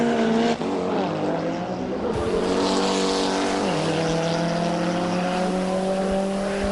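A turbocharged drag racing car on slicks launches on a 10-second quarter-mile run at Bug Jam, its engine roaring loud and close and climbing through rapid rising revs, cut by a sharp gear change midway.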